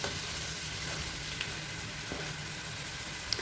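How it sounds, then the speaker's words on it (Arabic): Diced onions frying in hot oil at the start of an Algerian olive stew, a steady, dense sizzle with a few faint clinks from stirring throughout. "راح نقلي البصل تاعي مليح، نقليه كي نشوفوه تقلى شويه نزيدوا له اللحم"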